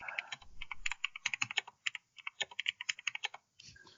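Fingers tap rapidly on a computer keyboard, close and crisp, in bursts of clicking keystrokes broken by short pauses, with no one talking.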